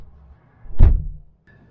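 A single solid thud of a 2020 Subaru Legacy passenger door closing, loud and close, with a short low rumble trailing off in an otherwise quiet space.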